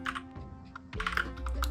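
Quick clicking keystrokes on a computer keyboard while entering web code, close and crisp in uneven bursts with short pauses, no talk.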